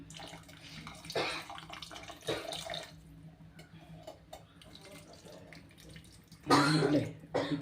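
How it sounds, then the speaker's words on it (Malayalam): Tamarind water is poured into a cooking pot in short splashing bursts, with a cough or throat clearing in between. "അപ്പോൾ ഇനി നമ്മൾ മെയിനായിട്ട് പുളിവെള്ളം ഒഴിച്ചു കൊടുക്കുകയാണ്."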